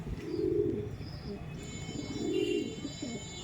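A pair of Madrasi pigeons coo softly nearby in repeated low, throaty phrases over faint background noise.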